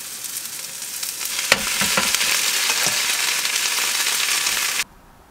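Soy sauce hits a hot frying pan of pasta with garlic, oil, chili flakes and onion, a loud steady sizzle with a few stirring clanks, cutting off abruptly.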